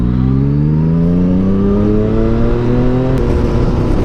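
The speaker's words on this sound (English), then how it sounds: "So that backfire is from having a full exhaust and no tune." A motorcycle with a full exhaust and no tune revs loudly and closely, its engine pitch climbing steadily for about three seconds before a sharp crack of backfire and a drop in tone.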